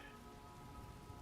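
Steady rain falling in the video game Skyrim, a dense continuous hiss at moderate level with a faint tonal hum beneath, no talking.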